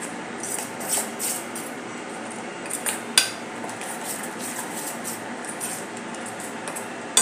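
Light clinks and scraping as hand-crushed ajwain is stirred into food for a school lunchbox, with a few sharper taps of a spoon against a pot or bowl, close and fairly quiet.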